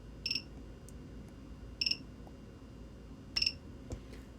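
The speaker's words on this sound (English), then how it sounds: "couple spot welds here" A DIY mini spot welder running on a 12V LiFePO4 battery fires three sharp, brief snapping pulses, each a tight cluster of clicks spaced about a second and a half apart, close and distinct over quiet background noise.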